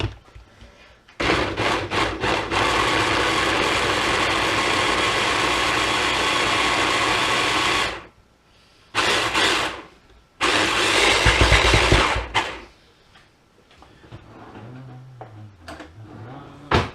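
A blender blitzing beef and tomato stew ingredients loosened with a splash of stock, loud and steady in several long bursts with short pauses between, ending in quieter clatter.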